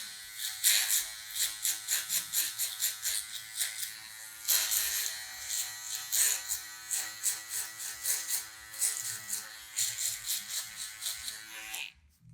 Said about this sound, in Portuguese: Vamos fazer a marcação com a máquina de acabamento do lado agora.